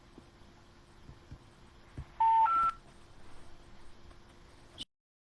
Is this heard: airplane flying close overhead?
no